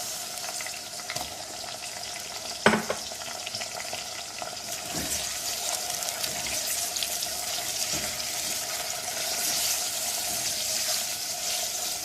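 Boneless beef, half a kilo, goes into a pot of sautéed onions for beef haleem, giving a steady close sizzle with watery hiss, one sharp clatter early on and light stirring noises throughout, no talking.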